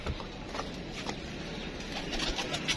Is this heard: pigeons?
yes